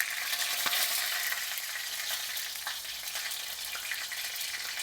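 Food frying in a pan, a steady, bright sizzle and crackle with occasional pops, close up and moderately loud with no voices.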